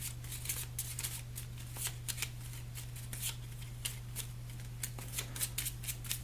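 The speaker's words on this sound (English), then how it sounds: "Get a good shuffle here." A deck of cards riffled and shuffled by hand for The Big Book of Madness board game, a quick run of crisp, close flutters and snaps repeating over a faint steady hum, with no talking.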